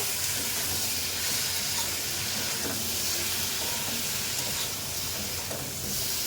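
Fried prawns with vegetables, turmeric, chilli powder and sugar being stirred in a pan, giving a steady close hiss and sizzle with soft scraping of the stirring throughout.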